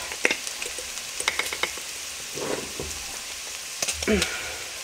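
Bacon fries and browns in a pot for the base of a New England corn chowder, a soft, close sizzle broken by scattered crackles and a few scraping stirs.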